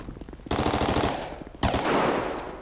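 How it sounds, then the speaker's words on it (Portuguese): An exchange of gunfire inside a favela during a police operation: two sudden bursts of rapid automatic fire, each loud and close and trailing off into echoing rattle. "Troca tiro, dentro da comunidade."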